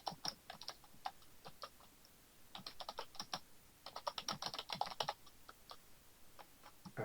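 Commands being typed on a computer keyboard, sharp clicky keystrokes coming in quick irregular bursts with short pauses between them, close but quiet and alone.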